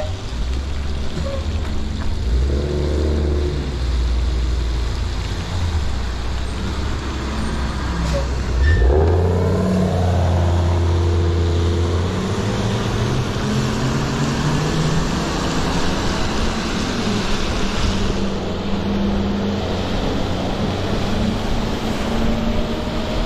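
A school bus engine drones ahead in traffic, heard from behind on an electric moto-style bike, a low rumbling hum that swells midway with a passing whoosh amid steady road and wind noise.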